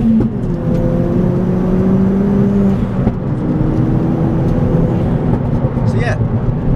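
A 320bhp Ford Fiesta ST pulling hard in second gear, a loud engine drone with climbing pitch heard from inside the car, rising steadily, then shifting and climbing again, with talk over it.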